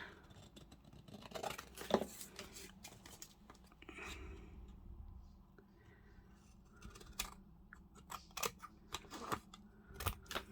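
Scissors cut paper for a junk journal photo foldout, making a run of quiet, close snips and crisp rustles spread irregularly through the clip in a calm room.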